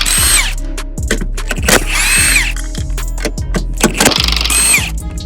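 A power tool removes the upper shock absorber bolts on a Buick Century during a front suspension rebuild, sounding as several loud, close whirring bursts that rise and stop in turn, with ratcheting clicks between them.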